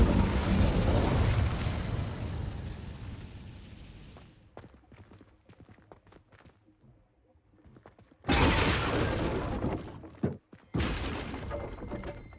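An Incendio fire spell burning cobwebs in Hogwarts Legacy: a loud, roaring whoosh of flame fades into crackling, then two more bursts of fire flare up, with a short gap between them.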